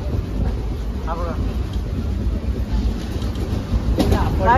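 Inside a moving train, a steady low rumble and wind-like roar fill the space, with faint background voices and brief squeaky sounds over the din.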